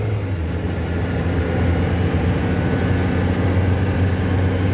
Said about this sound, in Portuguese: Agora se ouve praticamente só o motor aqui dentro.